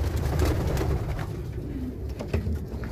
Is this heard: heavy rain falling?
no